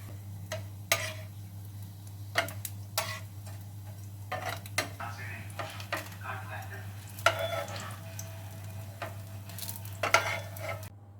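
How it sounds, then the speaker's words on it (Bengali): Vegetable chops shallow-frying on a low flame in a frying pan, a soft continuous sizzle with a low steady hum beneath and scattered sharp clicks and taps of utensils. "আমি ফ্রাইং প্যানে ভাজছি, তোমরা চাইলে কড়া করে ডুবন্ত তেলে ভাজতে পারো।"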